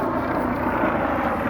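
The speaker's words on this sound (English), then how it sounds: "That's a helicopter. That's a nosy helicopter." A helicopter flies overhead in the city, a loud, steady engine and rotor roar that fills the whole short stretch with no talk.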